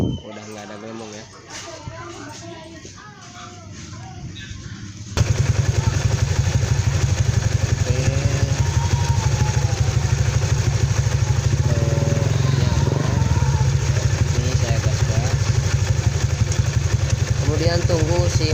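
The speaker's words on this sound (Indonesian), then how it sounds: "Kita coba hidupkan untuk motornya." Honda Vario scooter with a faulty water pump cooling system, engine starting up and running at a steady close idle after a few seconds of quieter background with voices.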